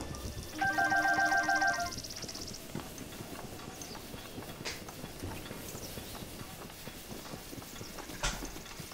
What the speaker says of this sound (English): it's good to have the white horse here.